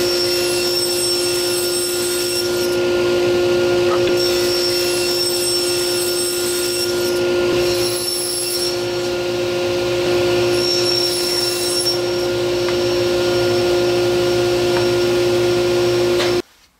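A power saw cutting a 3/4-inch pine board, a loud steady whine that dips and returns several times as the blade works through the wood, close by and without talk.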